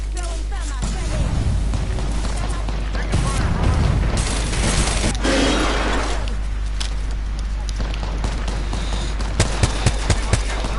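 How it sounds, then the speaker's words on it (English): A thermite grenade thrown in Apex Legends amid a firefight, with a burst of crackling, hissing fire and surrounding gunfire and mechanical clatter across a dense, loud game mix. "Throwing thermite grenade."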